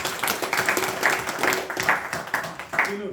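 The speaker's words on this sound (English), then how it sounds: "Please give a round of applause" Modest applause from a small group at a Bhakti Vriksha gathering on the Bhagavad Gita, a soft, even patter of hand claps at moderate distance that fades out at the end.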